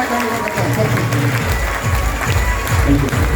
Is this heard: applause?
yes